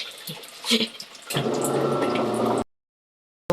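A few light clinks, then water runs steadily from a tap into a pot for about a second and stops abruptly, close up.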